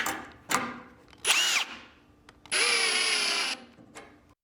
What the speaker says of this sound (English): You can even attach them to a drill to speed things up.